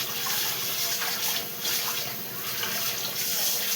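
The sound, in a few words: washing food under running tap water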